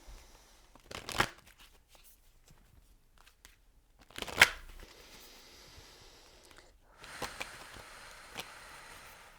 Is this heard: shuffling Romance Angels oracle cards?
yes